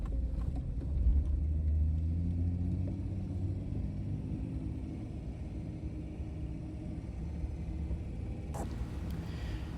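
Old Jeep WJ crawling along off-road trails at Sand Hollow, a continuous low engine rumble and drone with a brief louder surge early on and a short rattle near the end, no voices.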